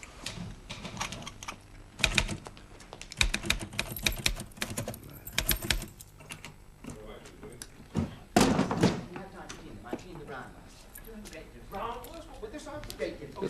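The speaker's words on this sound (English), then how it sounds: "Isn't that Willie's typing" Typewriter keys clatter in quick, irregular bursts with sharp thuds and carriage-like knocks, fairly close, set in a 1970s British whodunnit mystery.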